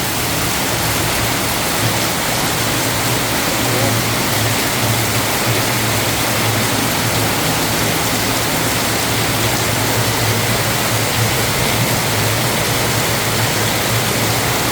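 Heavy rain pours down in Kanchanaburi, a loud, unbroken wash of hiss and roar that stays constant throughout with no voices.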